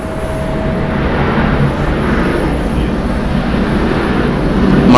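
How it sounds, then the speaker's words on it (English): A jet airliner lands at Atlanta Hartsfield-Jackson International Airport with its thrust reversers roaring: a loud, steady, broadband rumble that fills the whole stretch and swells slightly toward the end, with no talk over it. "The reversers are very loud."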